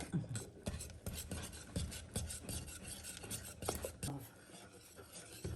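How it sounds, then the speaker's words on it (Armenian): Japanese-style dough for Easter buns being stirred by hand, a quiet, close rasping scrape repeating in a steady rhythm, with no voices. "Տեսեք, արդեն անընդհատ խառնելուց ոչ մի գնդիկ չունենք մենք"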